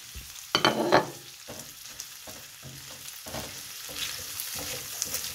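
Chicken and garlic fry in a pan, a soft sizzle broken by bursts of scraping and clatter as a utensil stirs them, close and moderately loud, with no voices.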